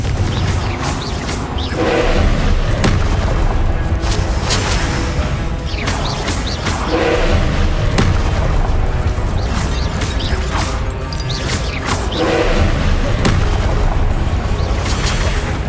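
Repeated Confringo fire-spell explosions in Hogwarts Legacy, with booming blasts and crashing impacts recurring every few seconds over a dense, loud game soundscape of combat.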